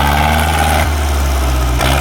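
A Ford 6610 farm tractor's engine runs loud and close with a deep, steady throb, heard alone without voices.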